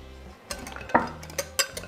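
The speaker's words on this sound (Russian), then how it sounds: "Перемешиваем наш соус и наш сельдерей." Spoon clinking and scraping in a bowl while remoulade sauce is stirred into grated celery root, several sharp metallic taps in irregular rhythm, close and fairly clear.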